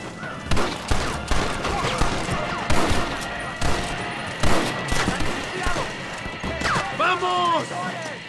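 Repeated gunshots crack in bursts from a Red Dead Redemption shootout, some sharp and close, others scattered, with a voice talking over the firing.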